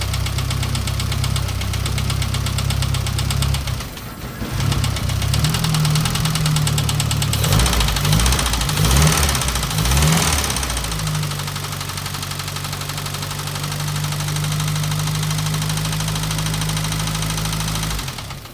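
Classic Mini 25th Anniversary barn-find car engine running after being revived, a close, loud knocking idle that stops briefly, restarts and settles into a steady rough chug, with no talking.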